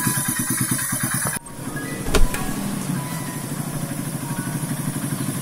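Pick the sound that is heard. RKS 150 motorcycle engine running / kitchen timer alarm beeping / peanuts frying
RKS 150 motorcycle engine running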